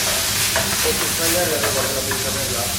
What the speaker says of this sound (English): Now I can stir.